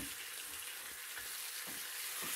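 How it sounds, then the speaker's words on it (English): Bacon strips fry in a pan with a steady broadband sizzle and scattered sharp spits and pops, close and continuous throughout. "Don't spit at me, bacon."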